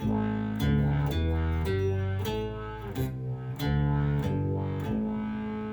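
BOSS SY-1 synthesizer pedal played dry with no delay or reverb, a sequence of buzzy, distorted synth guitar notes stepping between pitches in a steady rhythm, alone.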